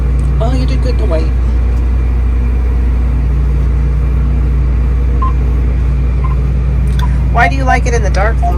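Tractor driving along a busy road at night, a steady low engine rumble running throughout, with people talking over it at the start and near the end.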